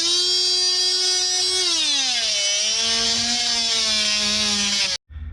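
An oscillating multi-tool cuts old RTV sealant on a hot tub, giving a loud, high, buzzing whine that dips in pitch as the blade bites, runs steadily, then cuts off abruptly near the end.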